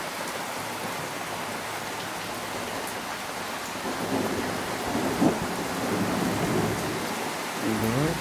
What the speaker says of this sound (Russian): Молния, гром.